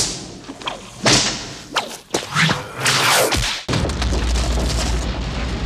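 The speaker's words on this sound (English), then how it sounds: "we built up a library of whip cracks, which was the basis for Indy's sound" Whip cracks recorded outdoors in an open field for an action-adventure hero's signature sound, a string of sharp whooshing snaps and booming cracks, loud and close, followed by a sustained rumbling tail.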